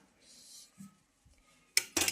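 Finely chopped cabbage is tipped into a pan: a few soft rustles and a light scrape, then two bright metallic clinks of a utensil against the pan at the end, close and fairly quiet with no talking.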